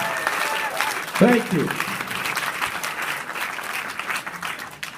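An audience at a San Rafael, California gathering applauds military veterans and law enforcement as they stand. The clapping rises loudly and sustains, and someone briefly says thanks over it.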